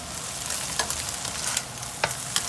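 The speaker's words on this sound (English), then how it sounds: "I'm basically scrambling it up in the pan" Eggs scramble and fry in a pan for American-style Chinese fried rice, making a close, steady sizzle broken by a few sharp spatula scrapes and taps, with no voices.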